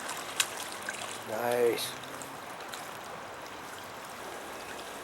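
A cold, icy creek runs with a steady soft wash of flowing water, moderately near, while someone briefly speaks over it.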